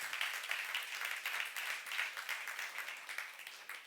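A congregation claps at a church youth service, soft, even, sustained applause from many people heard at a distance, with no talking over it.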